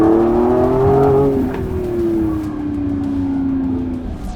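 A Lamborghini Revuelto hybrid supercar drives past loudly, its engine note holding a strong steady tone that sweeps slowly downward as it recedes, with no one talking.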